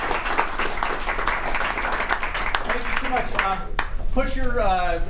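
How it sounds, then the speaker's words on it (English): Audience applause at a leadership event, a broad steady wash of clapping filling the whole stretch while a speaker talks over it, louder toward the end. "Let's give them a round of applause."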